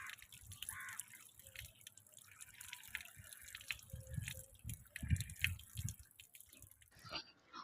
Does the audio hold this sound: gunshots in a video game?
no